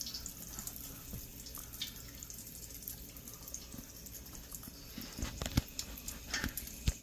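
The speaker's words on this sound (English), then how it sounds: "Okay, so now our oil is hot enough. We're gonna start our frying" Arancini rice balls fry in hot oil with a steady, close sizzle full of fine crackles and sharper pops that grow busier toward the end, with no talking.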